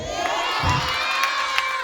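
A church congregation at a semi-Christmas worship service loudly calls out the name of Jesus together, voices merging into a sustained crowd roar with cheering across the whole stretch.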